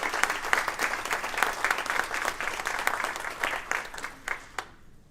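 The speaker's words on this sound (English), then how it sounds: "Let's give them a round of applause." Audience applause at an alumni reception, a dense steady patter of many hands clapping at moderate volume that thins out and fades at the end.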